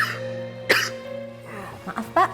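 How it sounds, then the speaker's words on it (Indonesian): A man in a drama series coughs and clears his throat while ill with sneezing and a cough. Several short, harsh bursts sound close up over a low background hum. "dari tadi saya lihat Bapak bersin dan batuk terus"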